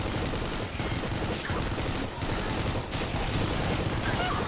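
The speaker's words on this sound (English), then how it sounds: "There's my second machine gun, or assault rifle, I guess." Sustained automatic fire from a machine gun or assault rifle in the shooter game Supplice, loud and continuous for several seconds, with dense rapid bursts and brief dips in intensity.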